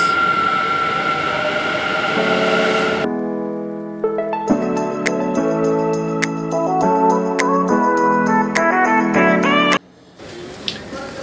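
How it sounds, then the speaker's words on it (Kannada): A metro train rumbles and pulls away, followed by a loud, tonal musical chime or announcement melody echoing through the metro station, then more train noise. "ಟ್ರೈನ್ ಹೋಯ್ತು ಗುರು ಹೋಯ್ತು"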